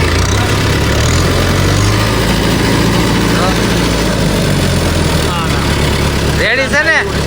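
The engine of a new tractor idles with a steady low rumble that runs the whole way through, while people talk over it near the end.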